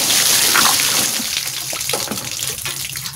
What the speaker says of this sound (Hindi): ये जी अब लगाया जा रहा है और पानी गिर रहा है